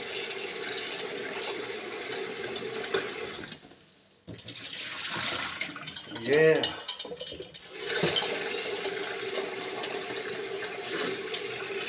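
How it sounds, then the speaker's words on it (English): A kitchen tap runs cold water over boiled eggs with a steady rushing stream that drops out briefly and then resumes, with a voice speaking partway through. "You take the hot water out, and you put cold water."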